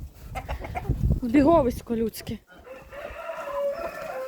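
Chickens clucking in a poultry yard where domestic ducks and geese are also kept, a burst of close, loud clucks and squawks cutting through someone talking, followed by softer fowl chatter.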